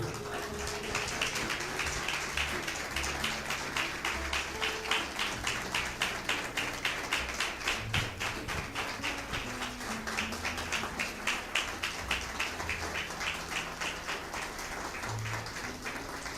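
A church congregation claps during a sermon, a faint, steady rhythmic patter of hands continuing evenly throughout with low background hum.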